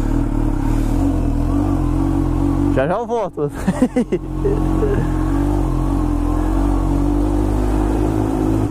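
A Kawasaki Ninja H2 motorcycle idles with a loud, steady rumble, then revs in a few sharp, rising bursts before settling back to idle, with someone speaking briefly nearby.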